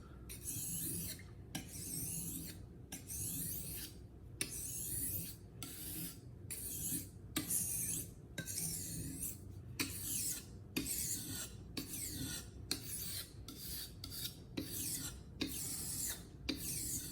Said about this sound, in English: chosen for polishing the blade's edge, making sure that it is pretty and it is very,